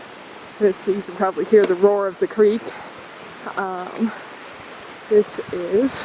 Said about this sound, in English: So you can probably hear the roar of the creek.